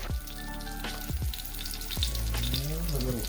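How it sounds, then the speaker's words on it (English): Flour and corn-flour battered fish sizzling in a cast iron pan, a constant close frying hiss with a few louder crackles and pops, alone with no voices. "And now we're going to pan fry them."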